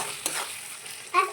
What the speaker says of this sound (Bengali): এইবার আমি এখানে বেশ অনেকটা টমেটো সস দেবো, দিয়ে একটু নাড়বো।